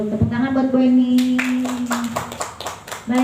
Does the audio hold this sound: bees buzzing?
no